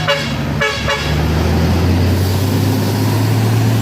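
An ALS bus on the Trans-Sumatra highway sounds its horn, two or three short, loud blasts near the start, followed by a steady engine drone.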